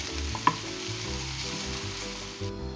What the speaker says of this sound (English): Put the mushrooms in a pan. Let the mushrooms release the juice and the great smell.